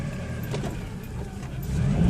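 A 1997 Geo Metro engine with an idle fault rumbles steadily with a low, uneven drone, its idle pitch dipping before swelling slightly louder at the end.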